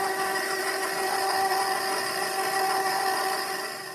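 Stand mixer running steadily while mixing chocolate chip cookie dough with two eggs, a constant close motor whir with no pauses, easing off slightly at the very end.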